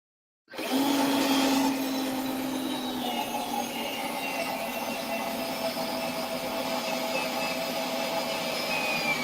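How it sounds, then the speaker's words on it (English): A power drill bores a hole through an arcade cabinet, starting abruptly and holding a steady, loud motor whir close by for several seconds without pause. "we need to drill a hole"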